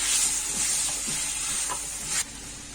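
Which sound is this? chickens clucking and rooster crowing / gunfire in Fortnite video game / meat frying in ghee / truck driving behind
meat frying in ghee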